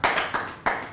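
A few scattered claps from a comedy-show audience responding to a show-of-hands vote, three sharp hand claps in under a second, close and fairly loud with nothing else underneath.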